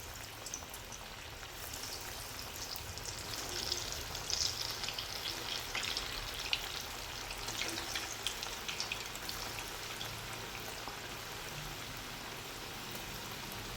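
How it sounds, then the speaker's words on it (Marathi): Chicken cheese balls dropped into hot oil in a kadhai, a soft, continuous bubbling sizzle with scattered crackles, fairly quiet throughout. "तेल तापलं आहे. आता आपण चिकन बॉल सोडून घेऊया."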